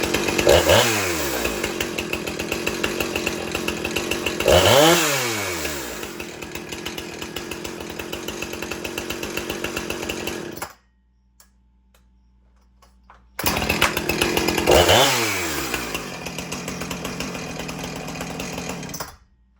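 A Husqvarna 455 Rancher chainsaw engine runs loud and close, revving up and down repeatedly, cuts out briefly to near silence, then roars back up.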